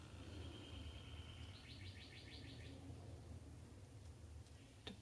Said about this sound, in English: The birdies are out today.